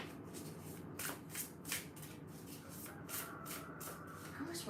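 Wandering Star Tarot cards are shuffled by hand in a rhythmic series of soft riffling swishes, about a dozen quick bursts, close but quiet with a faint murmur of a voice underneath.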